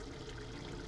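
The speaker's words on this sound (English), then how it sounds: "I can now take the kidney beans and put away the water and wash them" Kidney beans being washed under running water in a home kitchen; a steady, soft trickle and splash of water runs without a break for a moment, fairly faint and with no voices.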